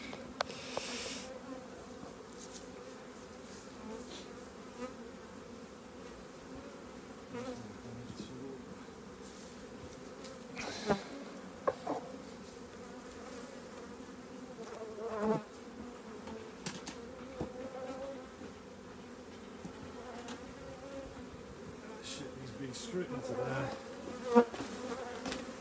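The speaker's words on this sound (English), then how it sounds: "I'm going to try and shake the bees in but not the rubbish" Honeybees being shaken from a merged colony into a new clean brood chamber, a dense continuous hum of many bees close by with scattered louder buzzes and knocks from the shaking.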